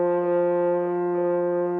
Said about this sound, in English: Let's play C.